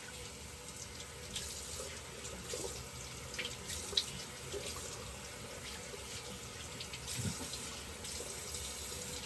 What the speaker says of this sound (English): First pass done, we just do a quick rinse.